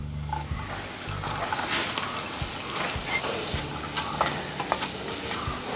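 Chopped garlic fries in hot oil with a close, steady crackling sizzle, punctuated by soft knocks of a spoon stirring the pan.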